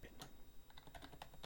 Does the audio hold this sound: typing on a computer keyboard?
yes